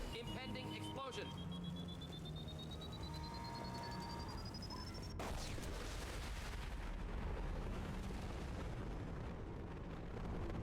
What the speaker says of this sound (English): That is a big explosion.